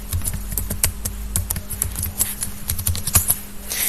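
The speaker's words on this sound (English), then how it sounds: "so I will just type my password" A password is typed on a computer keyboard in a fast, steady stream of light, close key clicks with no pauses, alone at moderate volume.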